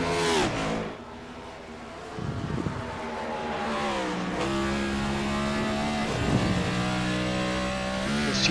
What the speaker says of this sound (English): You can hear the revs jump